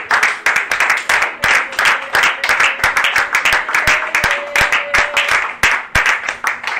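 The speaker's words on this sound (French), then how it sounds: "Le bébé du jour est sous les acclamations." Audience at a gathering claps for a newborn of the day being presented, bursts of hand clapping with sharp individual claps in an uneven rhythm, close and fairly loud, no voices over it.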